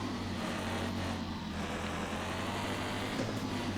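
A racing truck's engine drones in the Circuit Superstars video game, a loud, steady, low-pitched hum carrying on without pause for the whole stretch.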